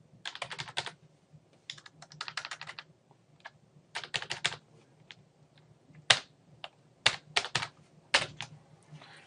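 Someone types an SQL query on a computer keyboard, making quick clusters of close, crisp keystrokes separated by brief pauses, with no one speaking.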